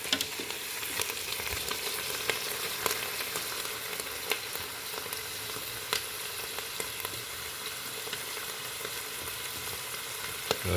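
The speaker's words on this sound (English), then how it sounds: "Paul's sauteed wild forage chanterelles." Wild foraged chanterelle mushrooms sauté in a pan with a steady, soft sizzle, broken by faint scattered pops and light stirring clicks throughout, with no talk.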